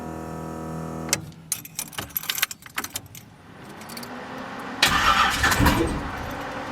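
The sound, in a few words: Chevrolet S10 truck V8 engine cranking and starting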